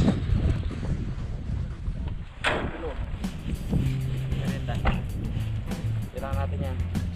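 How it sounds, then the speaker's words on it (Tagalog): Strong wind buffets the microphone outdoors during softshell turtle pest control, a gusty, rumbling roar running continuously beneath someone talking. "talagang napakalakas na talaga ng hangin dito"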